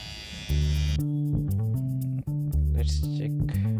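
A Syska HT3052K cordless trimmer switches on and runs with a steady electric buzz, its hum shifting slightly as it is handled, close and fairly quiet with no talking.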